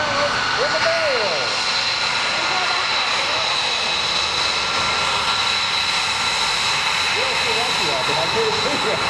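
A jet aircraft roars steadily overhead while flying aerobatics at a military open house airshow, loud and continuous throughout, with a public-address voice sounding intermittently over it.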